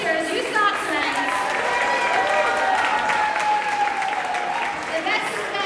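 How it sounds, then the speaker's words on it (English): An audience at a live painting competition event in Toronto claps in sustained applause, with scattered cheers and whistles, while an announcer talks over it. "Give me one big round of applause for all 12 painters you saw tonight."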